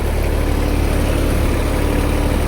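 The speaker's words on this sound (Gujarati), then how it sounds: "આમાં ઓલી કરતી છાંટતા આવ્યા ટ્રેક્ટર હાલ્યું જાય ઓટોમેટિક" A tractor engine runs at a steady, loud, unbroken drone while spraying pesticide in a field.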